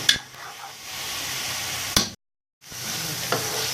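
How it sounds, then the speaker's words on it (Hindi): Turnips frying with meat in a pan, sizzling steadily while being stirred, with brief scrapes of the utensil and a short silent gap midway. "इसको अच्छी तरह से भून लेंगे"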